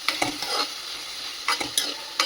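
Prawns and onions fry in a pan as a spatula works through them. Several short, sharp scraping and stirring bursts sound over a soft background sizzle, with no talking.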